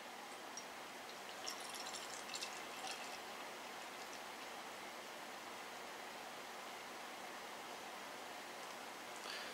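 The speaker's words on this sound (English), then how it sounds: "Let's get a pour on this one and see what it looks like." Evil Twin Molotov Cocktail IPA, a Simcoe single-hop beer, poured into a glass: a soft, steady fizzing trickle of liquid and foam, quiet and close, with a few faint clinks.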